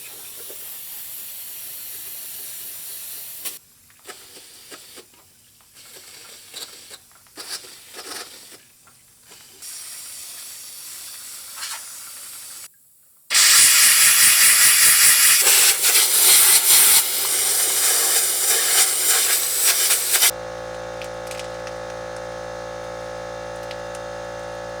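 Brake cleaner is sprayed and an air gun blasts out bolt holes on Farmall H tractor engine parts during a restoration. Short hissing spurts come first, then a long, loud, close blast of compressed air, and a steady hum continues after.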